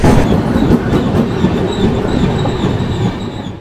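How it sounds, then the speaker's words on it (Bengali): The 12354 Lalkuan–Howrah Express rolls past on rail, a loud, continuous rumble of wagons with steady clickety-clack from the wheels and faint squealing from the rails, close by throughout. "এখন আমাদের সাথে দেখা হবে 12354 লালকুয়া হাওড়া লালকুয়া এক্সপ্রেসের সাথে"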